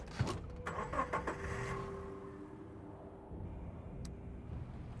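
A car engine starting in the post-apocalyptic video game Surviving the Aftermath: a few sharp mechanical clicks and a brief cranking whir, then a quiet steady engine hum with a single click near the end, no voices.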